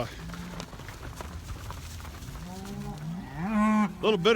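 Beef cows, upset at being moved to a new pasture, bellow in long, loud moos near the end, with someone talking over the restless herd and faint hoof and movement noise.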